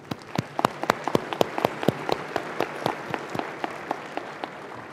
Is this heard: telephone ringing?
no